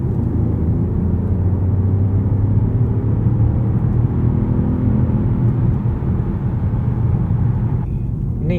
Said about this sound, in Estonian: Nii, teeme hästi kiirenduse.